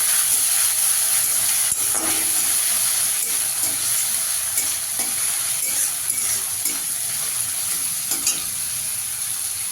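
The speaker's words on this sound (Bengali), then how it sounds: "চালটা একটু ভাজা ভাজা করে নেব।" Soaked Gobindobhog rice fries in a pan, with a constant hissing sizzle and intermittent scraping knocks of a spoon stirring it, close and fairly loud, with no talking.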